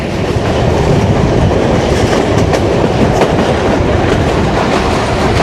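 A Kohat Express passenger train runs on the rails with a loud, continuous rumble and rhythmic clickety-clack of the wheels, heard from inside the moving train with no talk.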